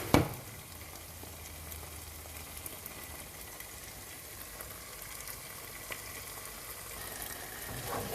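Yogurt and okra masala curry with a sprinkle of frozen coriander sizzles steadily in a pan, a continuous close frying hiss with occasional soft scrapes of a spoon stirring, no voices.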